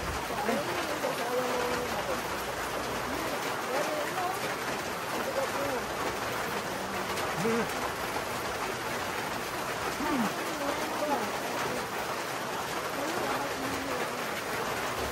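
Steady rain falls continuously on a farm in the Philippines, a dense hiss of drops on surfaces, with faint bird calls in the background.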